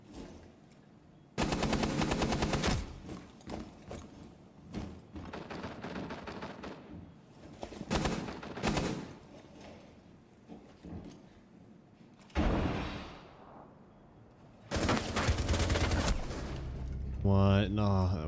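Rapid automatic gunfire in a first-person shooter game crackles in several loud, dense bursts with short single shots in between, close and sharp.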